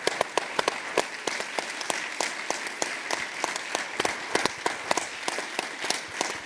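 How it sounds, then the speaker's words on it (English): A small audience at a conference claps steadily, a moderate round of applause with individual sharp claps standing out in an irregular patter, no voices on top. "So a big round of applause for all of them."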